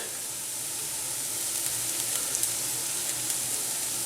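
Onions softening in a hot pan sizzle with a steady, bright frying hiss that holds throughout, close and even, with small spits and crackles rising slightly toward the end.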